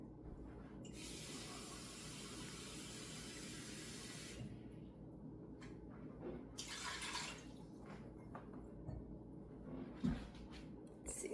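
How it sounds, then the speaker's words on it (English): Two cups of water pour into a cooking pot for chilli, a close hissing splash lasting several seconds, then a shorter second gush and a few light drips and clinks. "I'm gonna put 2 cups of water in here."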